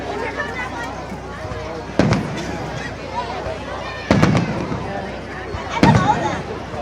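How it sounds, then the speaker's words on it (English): Fourth of July fireworks explode at a display in Fountain Inn, with three distinct booming bursts spaced a couple of seconds apart, heard at a distance under continuous crowd chatter and people talking nearby. "Fireworks and natural fireworks."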